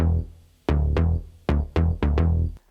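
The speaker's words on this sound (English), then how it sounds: "That bass sound was made up of multiple basses." A layered synth bass built from three stacked bass patches plays a run of punchy, decaying notes in an uneven rhythm, each struck note ringing out then cut by the next, loud and alone with no voices.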